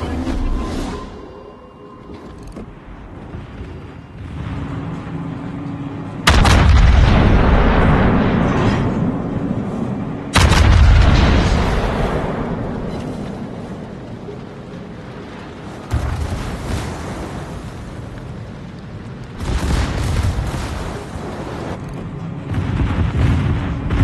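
Heavy naval gunfire in Kurfurst Kraken, battleship guns firing in loud deep booms at roughly six, ten and twenty seconds, each with a rumbling tail, over continuous low battle noise.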